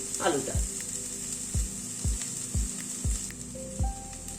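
Grated boiled potato with salt being stirred in a hot frying pan, a steady sizzle broken by about seven rhythmic spatula knocks against the pan.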